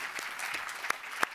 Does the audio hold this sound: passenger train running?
no